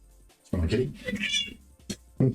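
A pet cat meows near the microphone in a few short, uneven cries, mixed with a person talking in a quiet indoor room.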